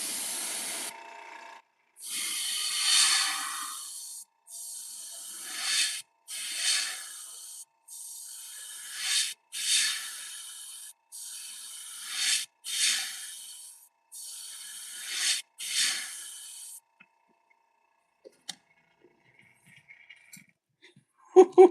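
An airbrush spraying paint onto fishing lures gives a series of short hissing bursts, about nine in a row with brief pauses between, fairly close, followed by quiet and a few small clicks.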